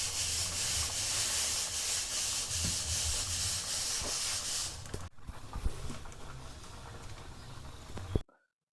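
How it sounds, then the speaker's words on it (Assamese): Bora sticky rice roasting into karai in a pan gives a steady dry rustling hiss as the grains are stirred, loud and continuous before easing into softer scattered scraping with a final clack. "এইবিলাক হৈছে বৰা চাউলৰ কাৰাই ভাজি আছে"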